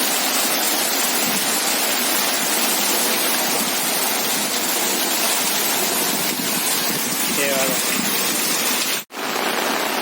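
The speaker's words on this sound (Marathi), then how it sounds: "डोंगरावरून येणारं पाणी समोर येत आहे आणि इथून वाहत असं हे इकडे जात आहे" Steady heavy rush of rainwater streaming down from a hill fills the whole stretch, a continuous broadband roar with rain-like hiss and no pauses, in Naigaon, Vasai, near Mumbai.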